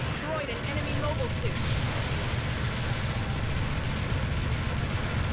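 Rumbling blast of an enemy mobile suit being destroyed in Gundam Battle Operation 2 on PS5, a dense low roar that fills the whole stretch beneath game noise and faint tonal effects.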